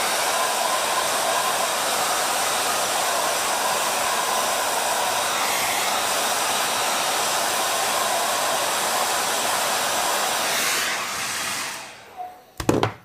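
Hair dryer blowing hot air, a loud steady broadband whoosh held for about eleven seconds, then cutting off with a few clicks and handling noises as it is switched off.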